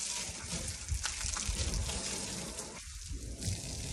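Water sprays steadily while a Nissan Armada SUV is washed, a dense continuous hiss that holds throughout with a brief dip in the lower rush near the end.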